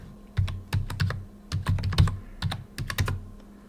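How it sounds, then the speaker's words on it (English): Someone types a password on a computer keyboard while setting up a user account in Kali Linux, producing a few close, quick bursts of key clicks separated by brief pauses, with no talking. "We type the password."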